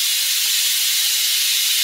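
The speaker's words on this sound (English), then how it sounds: "I'm gonna go ahead and vent them and let them put all the steam out real quick." An Instant Pot pressure cooker vents steam after cooking mashed potatoes, a loud, steady, unbroken hiss that holds at full strength throughout.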